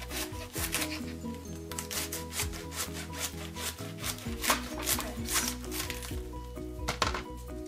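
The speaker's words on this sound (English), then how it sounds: "First, you need to cut the red cabbage into strips." A knife slices red cabbage into strips on a cutting board, crisp rhythmic cuts repeating steadily under a sustained musical background.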